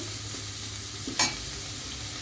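Chopped onions fry in a pan for Bengali fish chops, giving a steady close sizzle with a brief scrape of stirring near the middle.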